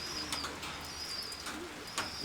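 A pigeon coos softly a few times at a pigeon loft, the low calls faint against quiet background hiss and a few light chirps.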